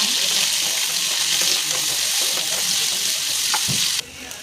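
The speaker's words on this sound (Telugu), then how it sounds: "తర్వాత ఉల్లిపాయలు వేసుకోవాలి" Green chillies, dried red chillies and onions sizzling steadily in hot oil in a pan, a loud continuous fry with a couple of brief clinks near the end before the sizzle drops quieter.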